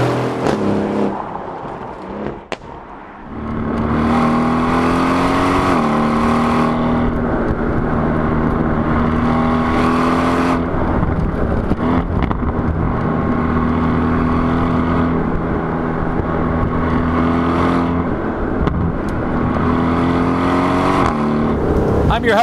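A 2021 Aston Martin Vantage Roadster drives off with a loud, sustained engine drone and shifting revs, rising after a quiet start and staying near and prominent.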